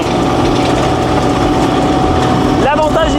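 Kubota-engined Rhinoceros T premium mini excavator travelling in fast mode at full throttle, a loud steady engine drone that runs throughout, with someone talking over it and a brief squeal near the end.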